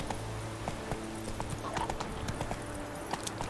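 Hooves of Geralt's horse Roach in the video game Witcher 3, a fast, steady clip-clop of galloping over a low game ambience, moderately loud, with no talking.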